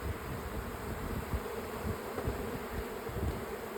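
Honeybees in a hive with syrup-filled frames near a feeder, a steady close buzzing hum with soft crackling movement underneath, fairly quiet and continuous with no talking.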